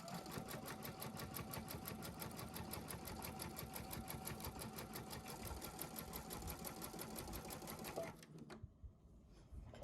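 Computerized embroidery machine stitching a tack-down line on a Kimberbell Halloween quilt block, a fast, even, continuous needle clatter that runs steadily for about eight seconds and then stops abruptly.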